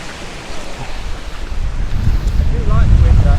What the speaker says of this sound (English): I do like the wind like this though.